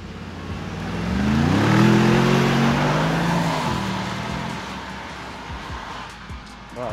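A Mercedes AMG G63 and a Ford Bronco accelerate hard in a tug-of-war race, a loud engine roar with rising revs climbing over a few seconds and then fading, with no talking.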